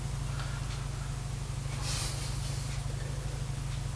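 A single short hiss of a spray bottle misting water onto a watercolour painting, close and faint, over a steady low electrical hum.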